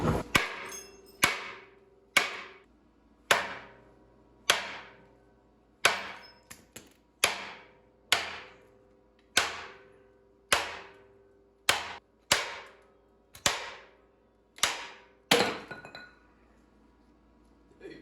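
Repeated hammer blows ring on a big-block engine's metal harmonic balancer, about fifteen sharp clanging strikes at an uneven pace, each leaving a brief metallic ring, close and loud.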